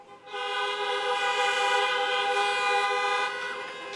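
Car horns honk together at a drive-in high school graduation, a bright, sustained chorus of overlapping horn tones lasting several seconds, holding steady at moderate loudness before thinning out toward the end.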